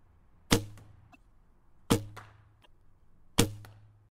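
Three separate shots from a cheap bow fitted with an old string and string silencers, each a sharp thwack with a short low thrum, evenly spaced and fairly quiet.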